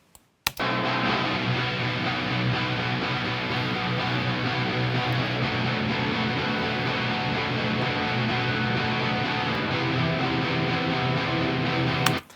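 Main electric guitar tone through a vintage Traynor YGL3 amp with a little spring reverb, a sustained, dense distorted wall of sound ringing steadily and alone before cutting off.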